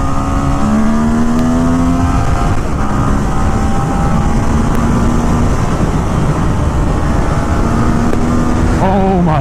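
A 2017 Ducati Monster 1200 R motorcycle engine pulls hard at high revs, its rising harmonic drone loud and sustained under wind rush, with a brief rev change near the end.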